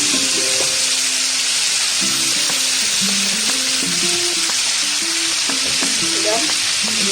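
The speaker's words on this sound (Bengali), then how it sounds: "তো দেখো আমি ফুলকপিটা ভেজে নিচ্ছি।" Cauliflower frying and being stirred in a pan: a loud, continuous close sizzle with repeated scraping strokes, and faint melodic tones running underneath.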